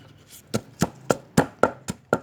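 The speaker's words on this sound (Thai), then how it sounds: "ช่วงที่โขลก พริกไปด้วยเนี่ยนะครับ" Chilies pounded in a mortar with a pestle, seven or eight sharp, evenly spaced thuds, close and loud, with no talk.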